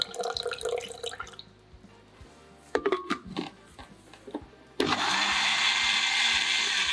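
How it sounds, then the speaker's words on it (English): A kitchen blender starts suddenly and whirs at a steady, loud roar as it blends wheatgrass juice with orange juice. Before that come softer pouring, splashing and dripping sounds, and nobody speaks. "Combine all ingredients and blend until well blended."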